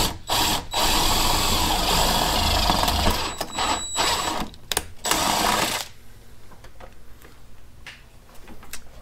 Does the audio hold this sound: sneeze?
no